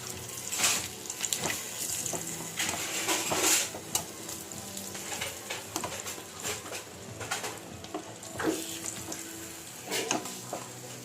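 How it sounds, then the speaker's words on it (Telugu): Fish pieces frying in oil over a low flame, giving a steady, soft sizzle with intermittent crackling pops and faint kitchen clinks, no talk. "అవి వేగిన దాకా కొంచెం లో ఫ్లేమ్లో పెట్టుకుని వేగనిద్దాం."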